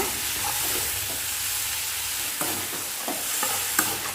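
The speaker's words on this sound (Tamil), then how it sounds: "நல்லா வதக்கி விட்டுருங்க." Continuous sizzling of mango peel sautéing in a pan, with occasional stirring scrapes and clicks over the steady hiss.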